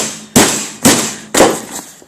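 Three hard, evenly spaced metallic strikes on a Master padlock, each a loud sharp bang with a short ringing decay, close by, no talk.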